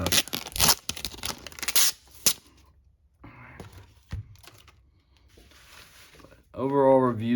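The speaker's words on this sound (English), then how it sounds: "I'm gonna go ahead and take the tape off and then clean her up" Tape peeling off the corner of an iPad screen in rough tearing and crinkling bursts, loud at first and then sparser, with a short voiced sound near the end.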